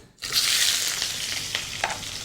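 Sliced onions hit hot ghee and sizzle loudly and steadily, with a few scraping stirs breaking through near the end and no voices.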